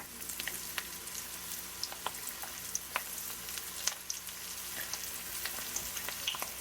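Keto onion rings fry in hot oil with a steady, close sizzle, dotted by frequent small pops and crackles throughout.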